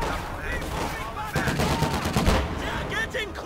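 Battlefield gunfire from the video game Company of Heroes 2, Ardennes Assault at Ouren: rapid, overlapping rifle and machine-gun bursts crackling loud and continuous, with shouted voices mixed in.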